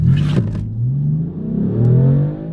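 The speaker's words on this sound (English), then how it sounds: "So, why is the Cupra so loud? Because it's basically a straight pipe." A loud straight-pipe exhaust on a Cupra car blares and revs, dropping briefly then rising again in a raw, rumbling roar close by.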